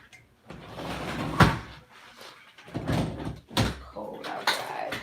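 A house door being opened and then shut to let a pet cat in from the cold, with creaks and a couple of knocks and thumps as it moves, close by and mixed with a person's voice.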